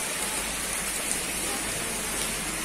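Heavy rain pours down steadily over a high school campus in Ajibarang, a dense, even, close roar of water with no breaks.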